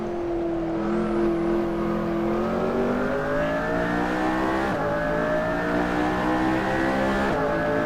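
A hypercar's engine revs hard and climbs steadily while accelerating through a lap of a race track, loud and close, with brief gear-change dips and no talking.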